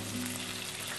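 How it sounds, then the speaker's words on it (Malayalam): Onions fry in hot oil with a faint, steady sizzle and crackle, continuous and unbroken for the short moment, with no talking. "ആ എണ്ണ എടുത്തിട്ട് കുറച്ച് ഉള്ളി കുറച്ച് ഫ്രൈ ചെയ്യാം"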